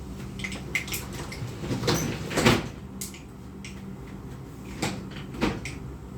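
A kitchen door is pushed shut, giving a series of close wooden knocks and bumps with a brief scraping thud in the middle, over quiet room noise.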